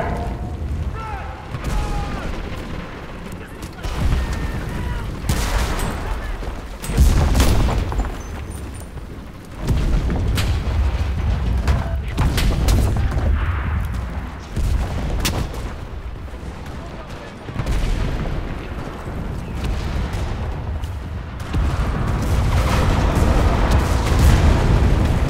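Artillery fire and explosions in the Enlisted World War II shooter, set in the Battle of Tunisia at an oasis, with repeated heavy booms and long rumbling blasts over about twenty-five seconds, loud and close.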